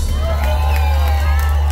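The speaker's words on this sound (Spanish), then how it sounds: "Gracias por los aplausos." A live audience at a dance music concert cheering and whooping loudly, a dense continuous roar of crowd voices with shouts over a steady low hum.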